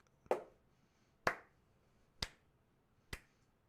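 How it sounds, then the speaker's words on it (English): Four crisp hand claps from a track, evenly spaced about a second apart, sharp, close and dry with nothing else around them. "just some hand claps."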